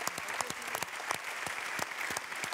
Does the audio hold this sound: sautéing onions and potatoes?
no